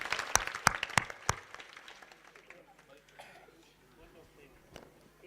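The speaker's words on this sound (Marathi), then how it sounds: "त्यांच्यासाठी परत एकदा टाळ्या वाजवाव्या" Audience clapping at a Shiv Mahapuran and Ram Katha religious gathering, sharp loud claps at the start that thin out and fade into a quiet hall with a few stray claps near the end.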